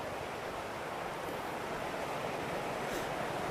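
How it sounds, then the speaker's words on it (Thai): Water rushing steadily in a stream below a bridge near Ban Pang Hai on a road trip through Doi Saket, heard as a broad, constant hiss with no speech over it. "มีลำธารอยู่ด้านล่าง"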